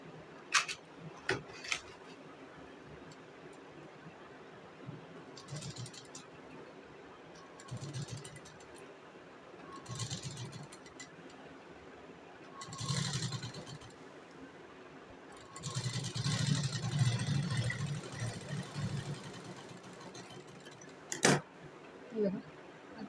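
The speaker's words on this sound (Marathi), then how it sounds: "आता याला आपण शिलाई मारून घेऊया." A sewing machine stitches a blouse sleeve in several short runs of whirring hum, with the longest steady run near the end and occasional clicks between the runs.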